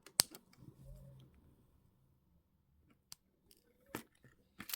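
Jewellery wire for a bracelet chain link is snipped with cutters, a few sharp, quiet clicks spread out over near silence with faint handling noise.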